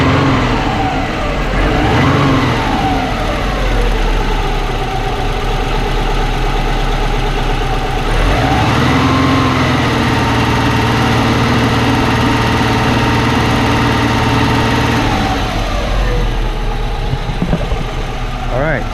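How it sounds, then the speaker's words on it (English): A Bugeye car engine runs at close range and is revved at the throttle body during a fuel pressure check. It rises in a few rev swells from a steady idle, and people talk over it. "I'm gonna rev it up and we're gonna watch the pressure"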